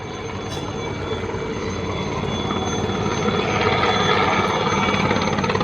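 A steady, loud mechanical roar of an Indian Army Aviation Corps helicopter flying during a military artillery exercise, with a constant rhythmic thrum that swells slightly over several seconds.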